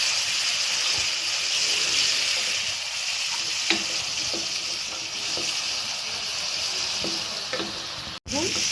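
Vegetables frying with turmeric in a pan give a close, continuous sizzle with scattered stirring taps and scrapes, steady in level, ending in a brief cut near the end.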